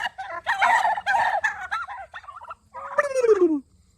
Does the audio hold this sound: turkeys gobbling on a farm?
yes